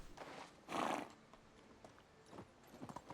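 A horse in the medieval farming game Medieval Dynasty whinnies loudly in one short burst, with hoofbeats clopping at a moderate distance before and after it in a snowy winter outdoor setting.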